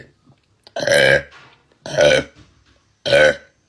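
A woman lets out three loud, drawn-out burps in a row, each a deep voiced belch close to the mic, separated by short pauses with faint breaths.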